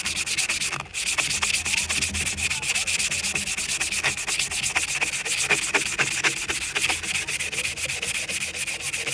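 A drinking horn is sanded by hand in rapid back-and-forth strokes, a loud, close, rhythmic scratchy rubbing that carries on steadily after a brief pause near the start.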